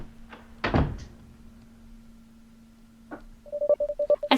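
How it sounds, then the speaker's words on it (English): An apartment door slams shut with one loud, close thump over a steady hum, then a short run of electronic tone beeps follows. "I storm into the apartment and slam the door behind me"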